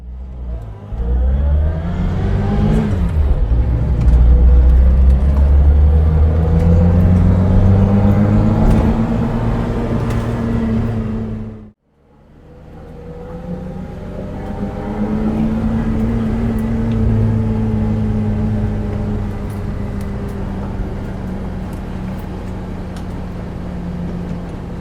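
A Reliant Fox car on a rainy mid-Wales road, its engine revving up through gears with rising, falling whine, pausing briefly at a gear change before pulling away again, loud and close inside the cabin.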